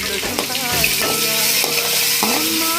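Curry leaves and coriander crackling in hot oil for a pepper chicken fry, a loud close sizzle with a few stirring scrapes and metallic clinks over under three seconds.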